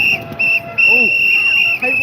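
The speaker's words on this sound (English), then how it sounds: "Let's move away from the whistles." Shrill whistles blow at a London freedom street rally, piercing and near, sounding in repeated long blasts with brief gaps. Crowd voices murmur faintly underneath.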